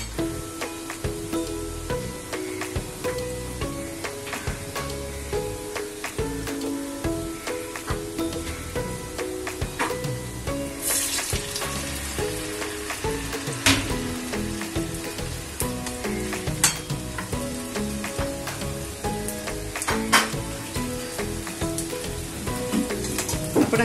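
Medu vada deep-frying in hot oil, a steady close-up sizzle and crackle with fizzing bubbles and occasional sharper pops, unbroken throughout with no talking.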